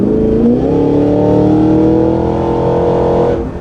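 A 2023 Cadillac Escalade-V luxury SUV engine roars loud and close, the exhaust rising in a steady revving drone with burbling tones before cutting off abruptly.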